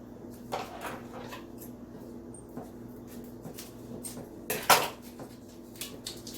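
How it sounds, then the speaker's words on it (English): Cream cheese from Trader Joe's is scooped into a bowl for a strawberry cookie crust cheesecake, with soft scraping and a few light clinks of a utensil against the dish, quiet and close over a steady low kitchen hum. "So we're going to go ahead and get my cream cheese in the bowl"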